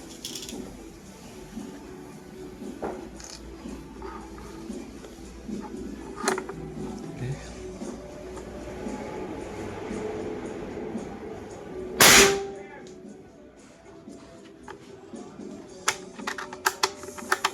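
A single sharp shot from a PCP big-game air rifle cracks out loudly and briefly, with quiet clicks and faint background noise before and after.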